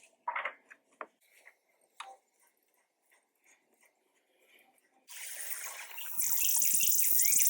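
Quiet clicks and handling noises, then a strong steady spray from a Duromax pressure washer bursts on and grows louder, hissing continuously until the end.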